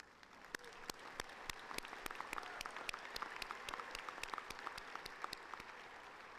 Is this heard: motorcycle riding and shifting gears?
no